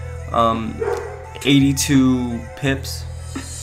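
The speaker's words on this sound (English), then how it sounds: "sorry my dog" A dog barks in a room, a few sharp close barks spaced over a few seconds, mixed in with someone talking.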